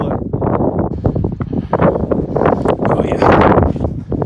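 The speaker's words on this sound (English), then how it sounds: "It's getting windy." Strong wind on an Adirondack mountain summit rushes and buffets the microphone in gusts, with people talking excitedly over the noise.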